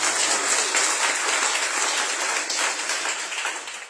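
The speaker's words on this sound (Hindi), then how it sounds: "तो जोरदार ताली बजाना।" Loud congregational clapping during a church service, a thick, even roar of many hands sustained from start to finish and easing slightly near the close.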